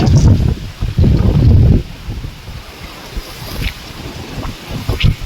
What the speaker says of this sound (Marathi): आपण बघू शकाय कसं वारा आहे